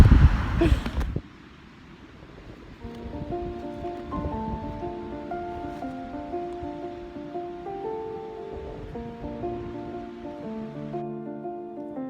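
Ocean waves wash onto a beach with a loud surge at first, then settle into a steady broadband roar, while a soft tonal melody plays over it.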